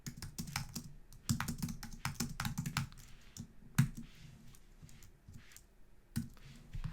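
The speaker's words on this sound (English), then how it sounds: "I'm going to just type in something like sign" Typing on a computer keyboard: quiet, close clusters of quick key clicks in irregular bursts with brief pauses between.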